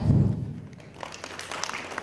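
Scattered audience clapping in a lecture on intellectual property: a low thump at the start, then a sparse handful of faint claps.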